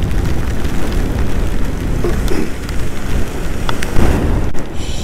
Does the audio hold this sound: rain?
yes